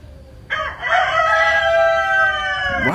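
A rooster lets out one loud, close crow that rises and holds for about two seconds before cutting off.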